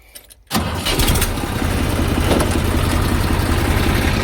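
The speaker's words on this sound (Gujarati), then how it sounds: "આપણે ટ્રેક્ટર હાલતું કરી દીધું" After a moment of near silence, a heavy farm tractor engine cranks and catches, then settles into a loud, steady idling rumble.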